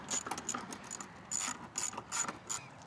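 A ratchet tightens an intake tube clamp during an install on a fourth-generation Toyota Tacoma, giving bursts of rapid, close clicking with short pauses between strokes.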